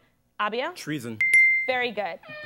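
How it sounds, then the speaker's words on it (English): A quiz show buzzer on a middle-school academic competition, a brief bright electronic tone cutting in between a host's spoken questions and answers. "that sound is my famous buzzer"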